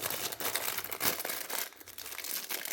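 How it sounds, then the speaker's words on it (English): Close crinkling and crackling of a plastic bag being handled and pulled open to unpack a Kansept Entity knife, a few seconds of rustling with brief louder crunches. "Let's get it out of this plastic bag."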